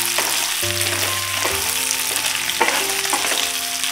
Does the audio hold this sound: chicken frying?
yes